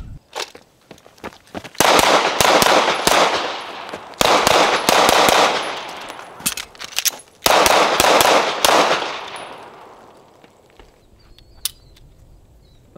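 A Smith & Wesson M&P 2.0 Metal pistol fired in rapid strings on a range, loud sharp cracks in three dense volleys with short pauses, then the shots fade into quiet outdoor ambience.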